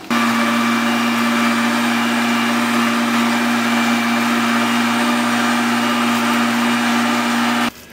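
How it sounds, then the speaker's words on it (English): A small electric meat grinder grinds sausage meat with a loud, steady motor whine and whirring hum that holds without a break, then cuts off abruptly at the end. "it's just because this is a smaller grinder. I'm gonna have to grind this"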